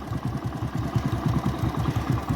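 A motorcycle engine idles with a steady, low, throbbing putter, running evenly and fairly close throughout, no voices.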